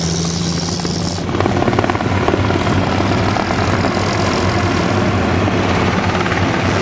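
A tiny Robinson R-22 helicopter flown for sport piloting gives a loud, steady rotor and engine drone that runs continuously, with no talking.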